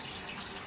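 A tap runs water in a steady, close, moderately quiet hiss, a brief continuous splash with no talk over it.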